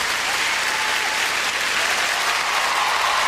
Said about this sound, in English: And a warm ovation from this audience.